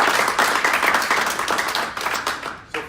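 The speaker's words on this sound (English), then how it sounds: "Let's give them a round of applause." Clapping from a modest audience at a small community event, a few seconds of brisk, uneven hand claps close by that thin out toward the end.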